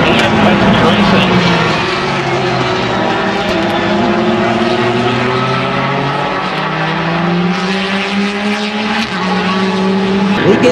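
Race cars roar past at speed on the 31-degree banking of a speedway during a Rolex endurance race, a loud continuous engine drone with pitch sweeps as cars pass, under a commentator's talk.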